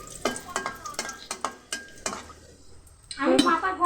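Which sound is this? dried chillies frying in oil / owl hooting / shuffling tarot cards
dried chillies frying in oil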